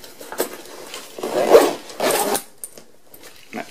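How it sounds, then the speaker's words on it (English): Zipper on a laptop backpack pocket being closed, heard as several loud rasping pulls of varying length, close up and alone, ending with a few small clicks. "Once again, very high quality zippers."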